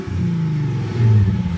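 Chrysler Crossfire engine fitted with a stainless steel exhaust revs up loud and close, a steady throaty drone that rises and swells toward the end, with no talking.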